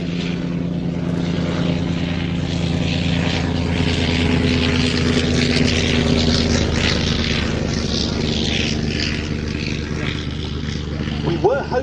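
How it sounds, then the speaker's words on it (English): Droning propeller engine of an Avro 504 vintage biplane at Old Warden, steady and fairly loud throughout, with a rising whine near the end. "right now we have the Avro 504"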